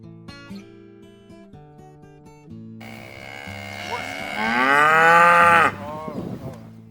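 Cattle on a community-supported biodynamic farm give a long, loud, drawn-out moo midway through, rising and then cutting off, over soft tonal background sounds.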